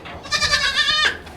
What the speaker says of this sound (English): my daughter's 4-H goats got here